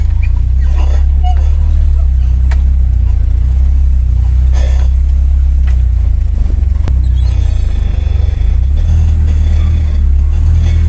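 A car with damaged suspension and steering runs with its engine going, giving a loud, steady low rumble throughout, with faint scattered knocks and rattles over it.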